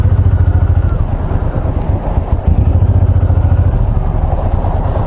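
A Honda VTX1800 motorcycle's engine idles close by with a steady, low, pulsing throb that runs unbroken through the whole stretch, briefly dipping once midway.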